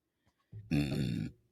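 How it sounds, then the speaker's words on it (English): A single loud, close burp lasting about half a second after drinking Cheerwine soda, rising out of near silence and then fading quickly. "Sorry about that burp. That's what the cheerwine just did to me."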